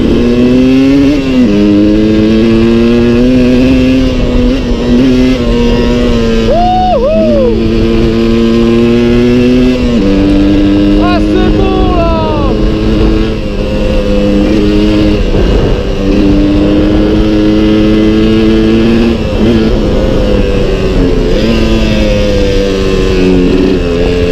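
A two-stroke Suzuki 125 TSR motorcycle engine drones steadily up close for the whole stretch on an off-road mountain trail, its pitch rising and falling as the throttle eases off and picks up again, with no talking.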